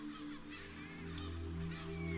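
Birds honking in the physics building game Besiege, a cluster of nasal goose-like honks over a low steady drone, moderately quiet, with no voices.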